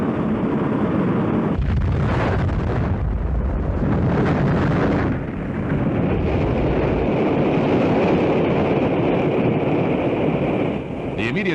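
A massive, sustained roar of a Centaur rocket exploding after launch malfunction, deep and rumbling with wind-like buffeting, continuing steadily for several seconds with no voices.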